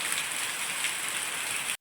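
Steady, dense rainfall hissing evenly throughout, with no voices or other sounds, ending abruptly.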